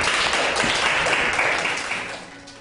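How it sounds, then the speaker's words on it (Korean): An audience at a post-screening talk with film directors applauds: a dense, loud wash of many hands clapping together that holds steady, then gradually tapers off near the end. "박수 한 번 더 부탁드리겠습니다"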